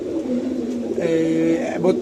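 Domestic pigeons, including a white army-line bird, coo in low, throaty rolling calls, close and continuous, with a person talking over them.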